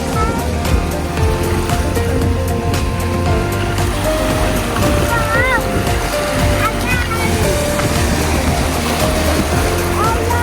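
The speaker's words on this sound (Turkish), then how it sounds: "Çok dalgalı" Steady rushing surf and crashing waves on a Tekirdağ beach, with wind noise and occasional shouts of children and adults in the background.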